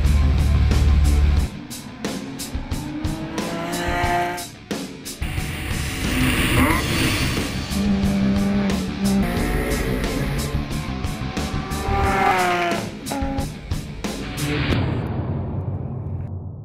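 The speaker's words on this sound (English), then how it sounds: "It's a beautiful brand new race car." A Porsche Cayman Cup race car on a track, its engine climbing and dropping in pitch as it revs through the gears, with sharp clicks and rattles over a steady, loud drone.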